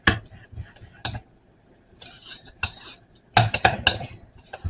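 A utensil stirs a buttery apple pie cheesecake mixture in a bowl, giving scattered clinks and scrapes in short bursts, with quiet gaps between and a busier cluster of taps near the end.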